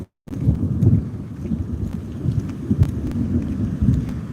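Low, rolling thunder rumbles on continuously after a brief silence at the start, loud and booming, with no one talking over it.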